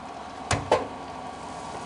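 The door of a Ninja Foodi Dual Heat Air Fry Oven is closed during pancake cooking, giving two quick clacks close together and a smaller click a moment later over a steady background hum.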